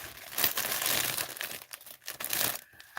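Thick plastic wrapping being pulled and torn off a bolt of quilting fabric, a close, busy crinkling and crackling that runs almost continuously with brief dips and louder tearing bursts.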